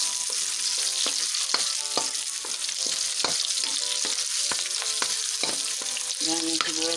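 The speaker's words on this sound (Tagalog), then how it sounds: "Tapos lalagyan ko rin siya ng sibuyas." Onions frying in a pan for a Filipino takway dish, a steady close sizzle broken by repeated scraping stirs and clinks of the utensil against the pan throughout.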